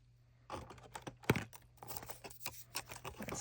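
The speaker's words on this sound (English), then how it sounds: "Cherry MX Blue 60 gram clicky switch plate mount RGB switch" A Cherry MX Blue 60 gram clicky plate-mount RGB keyboard switch is pressed repeatedly at close range, giving a quick series of sharp, crisp clicks and taps, quiet and alone.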